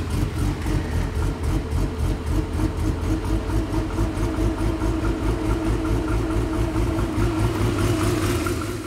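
An engine fitted with Lucas fuel injection runs at a steady idle right after starting, a loud, close, even rhythmic chug that holds throughout without talk.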